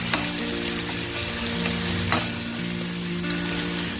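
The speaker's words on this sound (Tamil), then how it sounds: "தக்காளி நல்லா வதங்கட்டும்." Chopped tomatoes sauté in a pan with garlic paste for egg kothu idly, giving a steady close sizzle broken by a couple of sharp scrapes and clinks of the spatula, with no talk.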